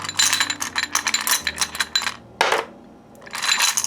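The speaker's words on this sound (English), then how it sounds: "I'm going to get the dice" Dice picked up and rolled during a tarot card reading, heard as close, bright clattering and rattling in quick bursts with a brief pause before a final tumble, no speech.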